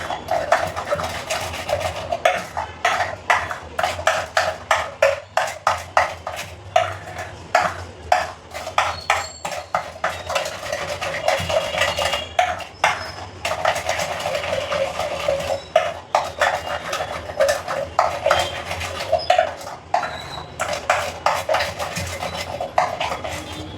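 A spoon stirs shrikhand mixed with saffron-cardamom syrup and saffron strands in a glass, giving a steady run of bright clinks and taps against the glass with no talking.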